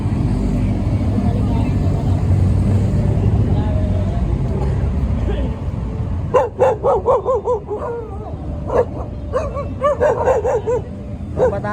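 Dogs bark in sharp, repeated bursts in the second half, near and loud, following a stretch of rumbling traffic-like background noise.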